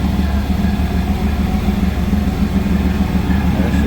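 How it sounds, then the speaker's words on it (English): Supercharged 700+ horsepower Ford SVT Lightning pickup idling on E85, a close, steady, smooth low rumble with an even pulsing rhythm and no talking. "Idle sounds so much smoother"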